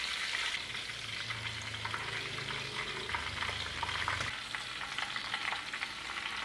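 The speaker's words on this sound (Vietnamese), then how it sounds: "Chiên ở ngoài chảo này đi." Food frying in a pan with a lot of oil, a continuous loud sizzle and crackle with low stirring scrapes underneath, no voices.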